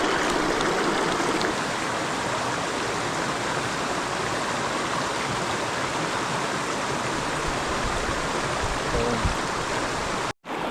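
A cold mountain stream runs steadily in a continuous, close, full rushing wash of water with no talk, broken only by a brief dropout near the end.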